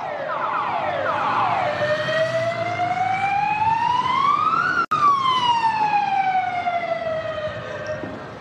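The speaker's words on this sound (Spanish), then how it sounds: "Una ambulancia." An ambulance siren wails loudly and close by, sweeping up and down in long rising and falling tones with no talking, amid clashes between football fans and police in Avellaneda, Argentina.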